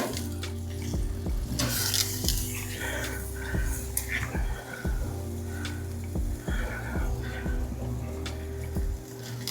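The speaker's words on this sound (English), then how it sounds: "We're gonna let it sear up on that back side" Picanha steak searing on a smoker grill, a continuous crackling sizzle with scattered sharp pops and spits, close and fairly loud, with a low steady hum underneath.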